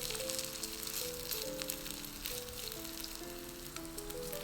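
Potato pancakes topped with egg yolks fry in a pan, giving a continuous soft sizzle with a faint crackle and popping over a low, steady background.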